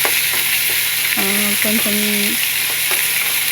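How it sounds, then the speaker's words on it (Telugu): Ginger frying in a pan with sliced onion, curry leaves and cumin for a paneer masala curry: a steady, close sizzle that runs the whole time, with a brief stretch of talk over it. "రెడ్గా అయ్యే వరకు వేయించుకోవాలండి."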